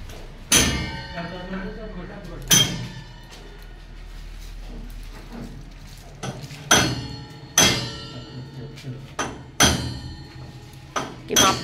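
A workman hammers while fitting metal window grills in a new house: about eight sharp, ringing metallic blows at uneven intervals, close and loud, with people talking in between.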